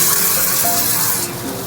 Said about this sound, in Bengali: এবার এর মধ্যে আমি দিয়ে দেব জল।